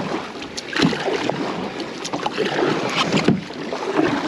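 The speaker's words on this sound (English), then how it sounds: "there's a lot of wind" Gusty wind buffets the microphone while a kayak is paddled on a reservoir, a continuous rushing roar with irregular swells and occasional splashy knocks throughout.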